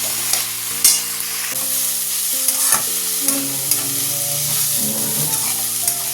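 Sliced banana stem fries in a hot pan with a steady close sizzle, punctuated by repeated scraping stirs of a spatula, over a droning tonal hum in the background.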